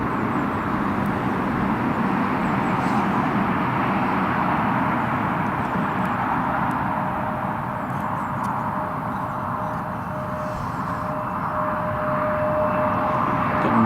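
Aircraft taxiing at Newcastle International Airport, a steady, fairly distant engine roar and broad rumble with a faint sustained whine, continuous throughout.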